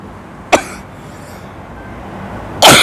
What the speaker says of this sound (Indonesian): Batuk ya Allah.